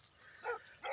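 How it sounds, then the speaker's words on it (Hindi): A street dog barks outdoors, two short close yips about half a second apart, fairly faint against quiet surroundings. "जैसे कि आप देख सकते हैं कि ये कुत्ता है जो मेरे ऊपर भौंक रहा है।"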